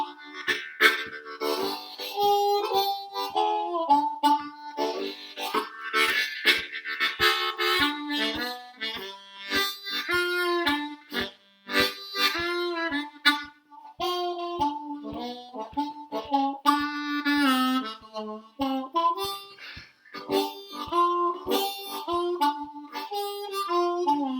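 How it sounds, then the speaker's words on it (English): A deep, rich low G harmonica plays a melodic line alone, with bending single notes, chordal puffs and rhythmic breathy pulses, up close and fairly loud. "So a low G harmonica sounds like this."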